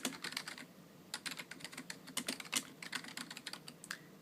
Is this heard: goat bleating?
no